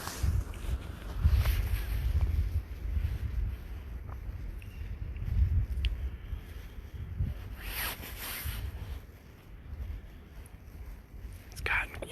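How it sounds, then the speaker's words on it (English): Gusty wind on a cold spring night walk roars and buffets the microphone in waves, with low rumbling surges rising and falling throughout; no talking. "Hear the wind howling."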